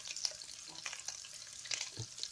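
Pork fat (salo) sizzles in a heated pan, soft crackles and pops scattered irregularly over a quiet background, close by and fairly faint, with no talking.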